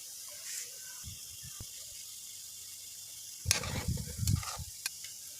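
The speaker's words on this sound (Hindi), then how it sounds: "एहतियात के साथ हम इसको ऐसे ऐसे ऐसे घुमा लेंगे ताकि हमारे जामुनों का कलर अच्छे तरीके से लाल सा आए" Bread-based gulab jamun fry in oil with a faint sizzle, then a burst of louder stirring and bubbling as they are turned, followed by a couple of light clicks.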